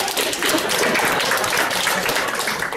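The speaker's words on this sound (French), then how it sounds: "On applaudit Frédéric." A group applauds a man named Frédéric in steady, dense clapping that holds at full strength for a few seconds, with no voices over it.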